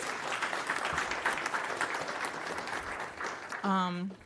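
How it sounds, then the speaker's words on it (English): An audience claps at a city council meeting, the applause sustained and moderately loud before fading. A voice begins speaking over the tail end. "So let's give Mr. Deontay Watson another round of applause"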